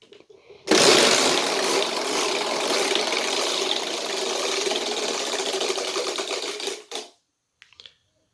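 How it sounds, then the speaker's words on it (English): A homemade Wheel of Fortune model wheel spins with a loud, rapid clattering of its pointer ticking past the pegs, running steadily for about six seconds before stopping abruptly, followed by a few faint ticks. "let's give this wheel one more spin with all the podiums"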